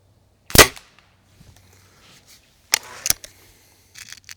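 Budget spring-piston air rifle firing pellets: two sharp, loud cracks about two seconds apart, each followed by a short metallic ring and faint handling clicks in an otherwise quiet setting.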